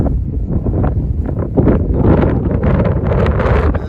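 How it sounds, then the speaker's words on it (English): Strong wind roars without a break on the Pacific Crest Trail near Walker Pass, buffeting the microphone loudly and steadily from start to finish. "there's so much wind, like always"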